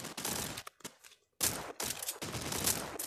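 Gunfire in the video game World War Polygon, dense loud automatic bursts with a brief pause partway through before the heavy firing resumes and continues.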